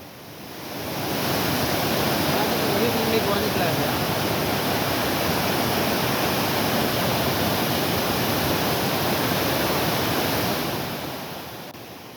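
Courtallam falls in Tamil Nadu pour in a steady, dense roar of falling water that swells in and fades out, continuous and fairly loud with no distinct voices.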